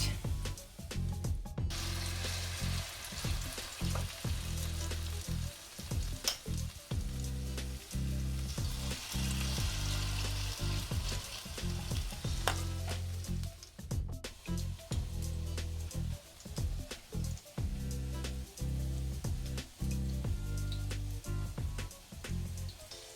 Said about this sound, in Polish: Tutaj mama tak partiami je smaży.